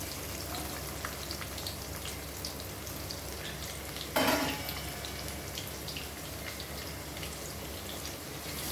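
Onions frying in a pan for a potato fry give a steady, close sizzle throughout, with one brief louder crackling burst midway.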